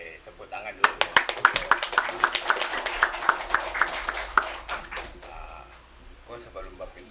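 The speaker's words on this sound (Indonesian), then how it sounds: "Tepuk tangan dulu." A small gathering at a neighbourhood community talk show claps briefly, a quick run of sharp hand claps rising and fading over a few seconds, with people talking around it.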